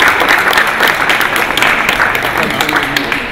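Dense, steady applause from an audience at an art exhibition opening, a continuous wash of many hands clapping at close range and fairly loud, holding level throughout with no break.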